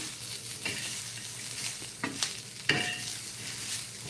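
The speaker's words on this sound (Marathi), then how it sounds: "अगोदर असं चांगला खरपूस भाजला जातो मसाला" Masala with coconut roasting in a pan for halwa fish curry, a soft steady sizzle with a few scraping stirs, fairly quiet and without talking.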